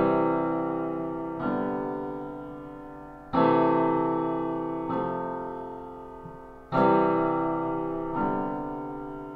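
A chord sequence sounds over a sustained low C pedal point in the bass, with each new chord struck and left to ring and fade, several changes in a slow, even rhythm and no voices.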